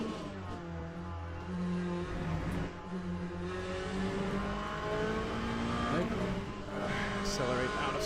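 Race car in the Le Mans Ultimate sim accelerating hard out of a corner at Spa, engine note climbing steadily through the gears, loud and continuous for the whole stretch, with a voice talking over it.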